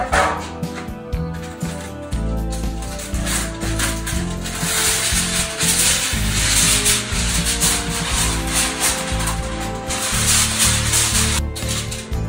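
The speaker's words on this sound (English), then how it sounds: "use some heavy duty aluminum foil. Cover it in aluminum foil" Heavy-duty aluminum foil is handled and pressed over a deep pan for ribs. It gives continuous crinkling, rubbing and scraping close up, with irregular bursts of crackle throughout.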